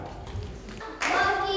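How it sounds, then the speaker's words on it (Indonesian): Brief burst of audience applause for a contestant in a West Papua provincial storytelling contest for primary school pupils in 2021, the clapping swelling in sharply after a quieter start. "Mari kita berikan tepuk tangan yang meriah"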